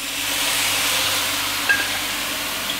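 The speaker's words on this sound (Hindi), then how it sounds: "और मज़ीद 30 सेकेंड के लिए इसको वेजिटेबल में मिक्स करेंगे" Vegetables for chicken chowmein are stir-fried with vinegar and soy sauce, giving a loud, steady hiss of sizzling and steam with one faint clink partway through.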